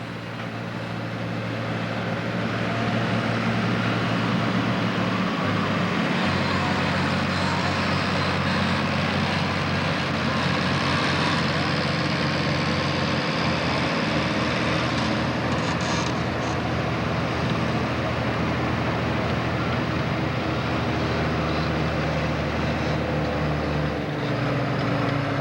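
An International 1066 tractor in the super stock pulling class at a 1995 Cape Girardeau, Missouri pull, its engine roaring loud and steady for a long sustained run with shifting pitch.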